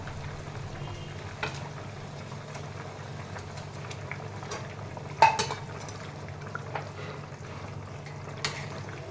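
Potatoes simmer in a wok for a Bengali fish curry as pieces of fish go in one by one: a low, steady bubbling hum with a few soft splashes and clinks, the clearest about midway, and no talking.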